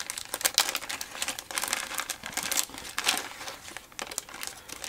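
Bubble wrap packaging around small acrylic pins is handled and unwrapped, giving close, crisp crinkling and rustling in irregular bursts with brief pauses, with no talking.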